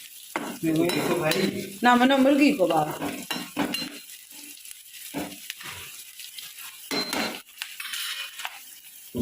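Maggi noodles are lightly fried in a pan in a home kitchen, with soft sizzling, stirring scrapes and a few utensil clinks alongside people talking nearby.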